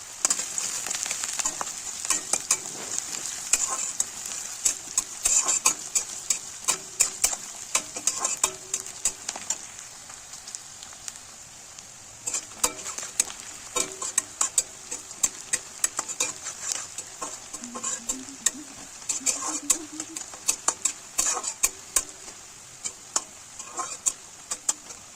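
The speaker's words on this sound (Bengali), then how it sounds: "এবার কাঁচা লঙ্কা কুচি এবং পেঁয়াজ কুচিকে ভালো করে ভেজে নেব।" Chopped onion and green chilli fry in a pan with an oily sizzle, while a spatula scrapes and stirs in repeated clattering strokes, close up, with faint bird chirps in the background.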